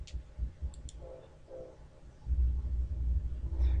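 A computer mouse gives a couple of quick, light clicks near the start, followed by a low, steady rumble of background hum that grows louder toward the end.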